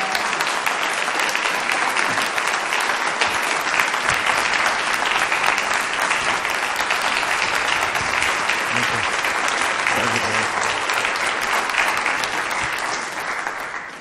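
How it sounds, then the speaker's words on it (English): A church congregation gives a long round of hand-clapping to welcome a guest speaker, loud and dense clapping that sustains evenly for several seconds before starting to fade at the end, with a few faint voices underneath. "Would y'all give a big, big hand clap?"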